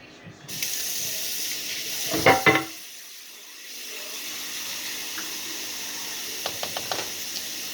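Kitchen tap water runs steadily into a sink while something is rinsed off during home cooking of southern-style gravy, with a brief louder splash partway through and soft clinks near the end.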